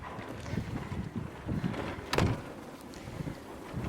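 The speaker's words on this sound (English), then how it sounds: "a light wind" Light wind blows steadily outdoors beside a greenhouse in freezing weather, a soft continuous rush with gusty swells and one stronger buffet midway, no voices.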